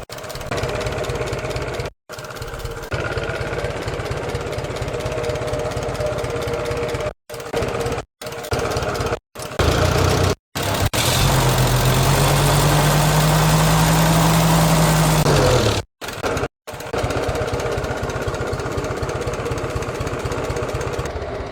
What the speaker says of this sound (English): really smooth running little engine.